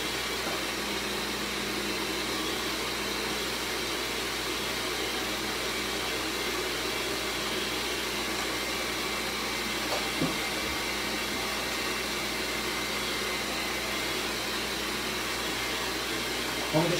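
An electric stand mixer beats cake batter at high speed, a continuous loud whirring hum that holds steady throughout without pause, close up.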